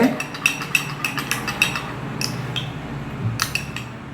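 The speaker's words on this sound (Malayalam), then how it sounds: "നല്ലവണ്ണം മിക്സ് ചെയ്യണം" A spoon clinks and scrapes repeatedly against a bowl while a beetroot face pack is mixed, a quick rhythmic series of close metallic taps and stirring scrapes.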